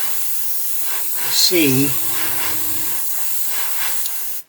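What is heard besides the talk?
aerosol spray coating a plastic model kit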